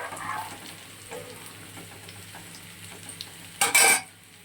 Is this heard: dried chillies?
yes